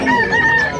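A rooster at a pet market in Bocaue, Bulacan gives one short, loud, close crow, sustained briefly before trailing off.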